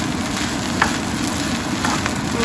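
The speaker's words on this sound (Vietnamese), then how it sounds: "Mình cứ trộn đều tới khi mà mình thấy cái hột cơm nó khô" Green fried rice is stir-fried in a hot pan, producing an even, continuous sizzle and crackle that stays at a constant level throughout.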